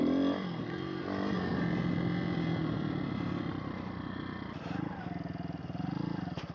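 Kurz RT1 pit bike engine revving up through the gears, a buzzing single-cylinder drone that rises and dips with each shift, fairly close and continuous, with rough clatter toward the end.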